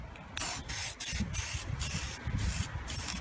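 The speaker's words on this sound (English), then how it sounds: "Need a test spray." A can of Rust-Oleum spray paint hisses in several close, loud bursts of uneven length, with brief gaps between the sprays and no talking.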